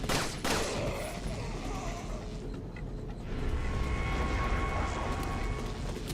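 Video game gunfire from Resident Evil 4, with a sharp burst of shots near the start and then a dense, continuous clatter of game action and background noise to the end.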